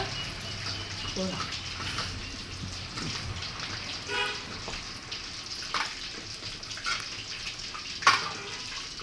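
Water is poured steadily into a pot of chicken curry, making a continuous splashing hiss with a few louder drips and knocks near the end.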